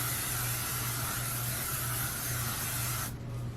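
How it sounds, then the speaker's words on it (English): Hair spray hisses in one continuous loud burst from about six inches away onto the midsection of curly hair, cutting off abruptly just before the end. "Spray this just from like the midsection of my hair right here,"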